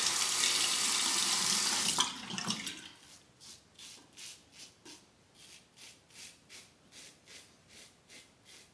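Tap water splashes loudly into a sink for about two seconds while a razor blade is rinsed, then cuts off, leaving a run of faint, regular soft rubbing strokes.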